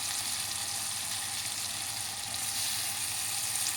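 Onions fry in a pan for a liver curry, giving a steady, continuous sizzle and crackle at close range, even in level throughout with no voices.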